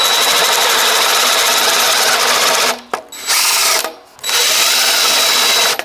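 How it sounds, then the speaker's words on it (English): A power drill fitted with a 25mm flat bit bores a shallow recess into timber, a loud, steady high-pitched whir that cuts out twice briefly before resuming. "I'd recommend that you use a 25mm flat bit first. Put that on the mark that you've made. And make roughly a 6mm deep recess in the timber."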